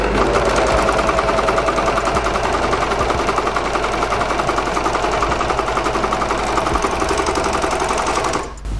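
A Juki MO-4S overlocker serger stitching fabric runs loud and steady for about eight seconds, a fast rapid-fire mechanical rattle close up, then stops abruptly near the end.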